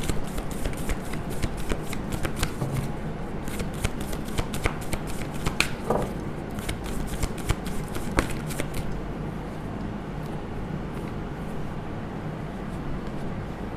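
Tarot cards shuffled by hand in a quick, crisp riffle of rapid flutters and taps, close and fairly quiet, continuing for several seconds before easing off.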